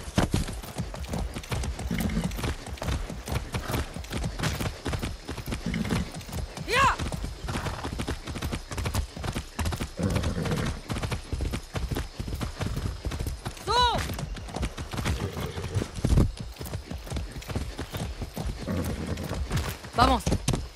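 Horse hooves clip-clopping in the video game Far Cry 6 on PS5, a steady rapid rhythm of close hoof beats throughout, with a couple of brief whinnies and game voices talking over parts of it.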